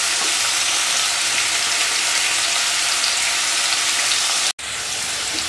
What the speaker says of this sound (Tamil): இப்போ நல்லா வந்து இந்த வெங்காயம் வந்து எண்ணெயிலேயே நல்லா இப்படி நல்லா வதங்கிடணும்.